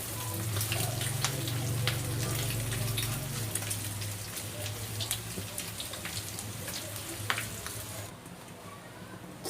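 Pork intestine adobo sizzling in a pan as soy sauce is added, a steady crackling hiss with a low bubbling undertone that eases off toward the end.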